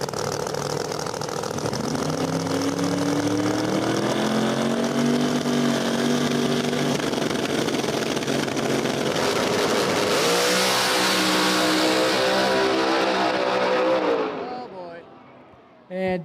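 A turbocharged Dart drag racer and Disco Dean's car launch side by side at a no-prep street outlaws event in Brainerd, Minnesota, engines screaming through rising gear pulls, loud and sustained, under excited commentary, then cutting off abruptly.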